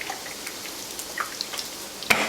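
Food frying in a butter and oil mixture in a non-stick pan, a faint steady crackle with scattered small pops and one sharper spit near the end.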